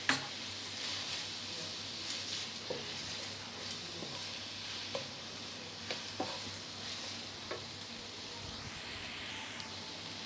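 Vegetables being stirred with chowmein masala in a pan for a vegetarian chowmein made without onion or garlic: a soft, steady sizzle with faint scraping strokes and a few light clicks, close by and quiet, with no talking.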